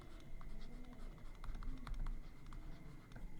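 Pen scratching across paper as a math solution for an integrals exercise is written out, a close, quiet, continuous scribbling with small taps and strokes at a steady pace.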